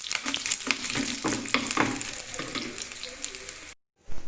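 Curry leaves dropped into hot oil for tempering a tomato pudina chutney crackle and sizzle loudly up close, a dense hiss with sharp pops that fades, then cuts to brief silence and resumes.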